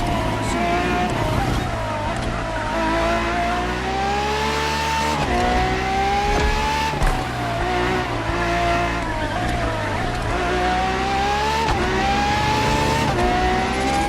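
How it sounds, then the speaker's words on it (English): Ferrari FXXK track-only supercar driving on a race track, its engine droning loudly and continuously with rising and falling pitch as it accelerates and shifts, close and steady throughout. "For this second lap, you'll be driving the"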